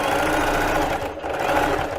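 A domestic sewing machine stitches a finishing seam on plus-size underwear, a loud rapid mechanical whirring close up that runs almost continuously, dipping briefly near the middle before resuming.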